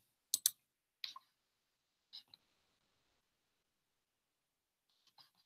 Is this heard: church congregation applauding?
no